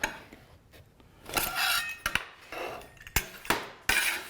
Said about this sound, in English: We're gonna pop this one off of out of this pan, see how it looks.